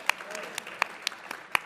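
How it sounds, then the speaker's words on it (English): Sparse, scattered handclaps from a small group in a living-room debate show setting, a few sharp separate claps spaced out over under two seconds, with faint voices underneath. "Give me a round of applause"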